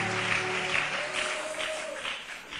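Congregation applauding and cheering during a worship service, a dense steady wash of clapping with a sustained tone beneath, continuous and fairly loud for the whole stretch.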